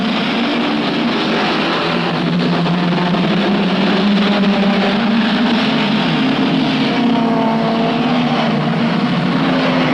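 Engines of 1969 Hardie-Ferodo 500 race cars at Bathurst roar as the field swarms through Hardie-Ferodo corner and up Mountain Straight, a loud, sustained drone that swells slightly as the cars pass.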